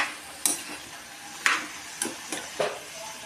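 Eggplant pieces sizzle gently in a pan for aloo vangyachi bhaji, punctuated by five sharp spatula scrapes and clinks spaced a second or less apart.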